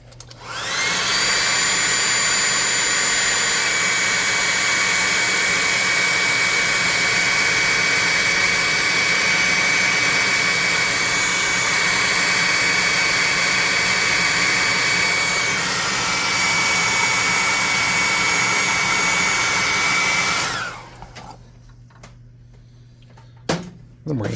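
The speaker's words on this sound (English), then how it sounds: "I'm going to airbrush this one more time" An airbrush sprays paint onto a miniature tabletop-game monster, a loud steady close hiss of compressed air running for about twenty seconds before cutting off, with faint handling noises afterward.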